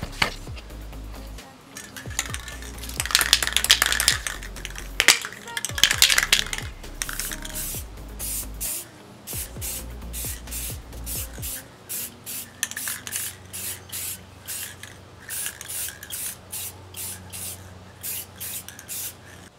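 An aerosol can sprays adhesion promoter onto a Yamaha Banshee motorcycle frame in repeated hissing bursts, long at first and then shorter, with the rattle of the mixing ball as the can is shaken, close and loud, no talking.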